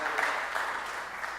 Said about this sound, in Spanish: Un aplauso al ingeniero,